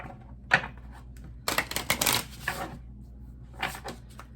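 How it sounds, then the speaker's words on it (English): Tarot cards shuffled by hand at close range, brief crisp flicks and a dense riffle burst in the middle, then a few softer card taps. "Let's shuffle these guys."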